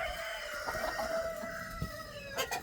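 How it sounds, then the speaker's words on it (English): Chickens cluck and a rooster crows nearby, several birds calling over one another in a farmyard with no talking. "Yeah, I got 23 roosters."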